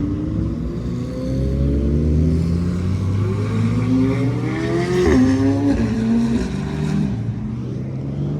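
Maserati sports cars cruise by with a low engine hum and a brief rise in revs as they pass, fairly loud and without speech.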